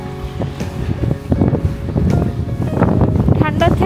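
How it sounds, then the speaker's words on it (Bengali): Strong gusts buffet the microphone at the Vienna central bus station, a loud rumbling roar with voices talking underneath. "এখানে প্রচণ্ড হাওয়া দিচ্ছে"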